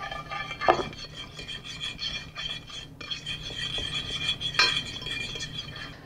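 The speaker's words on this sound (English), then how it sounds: "With a fork, mix the ingredients together." A fork mixes chopped garlic, cardamom powder and olive oil in a bowl, giving close, soft scraping and rubbing strokes with two brighter clinks of metal against the dish, no voices.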